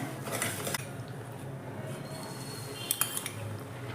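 A spoon stirs besan and milk in a pan over a low gas flame for mohanthal, giving steady scraping and clinking against the metal with a few sharper knocks near the end, with no voices.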